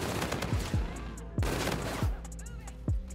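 Bursts of automatic gunfire from the epic RPR Evo Bosozoku in Infinite Warfare, with several sharp, loud shot clusters spread irregularly across a few seconds over steady game background noise.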